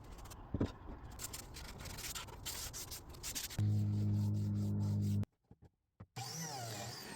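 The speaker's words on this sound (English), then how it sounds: "White oak, we're going to put some white stain on it, but very lightly, and to wipe off the excess here." Cloth rubbing white stain off white oak table slats gives soft, repeated scrubbing strokes, followed by a steady mechanical hum and then a brief silence before more rubbing noise.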